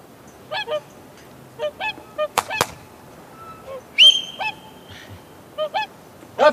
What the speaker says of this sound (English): As it happened, it was a bunch of swans that did decide.